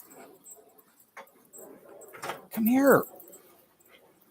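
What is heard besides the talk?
dog whining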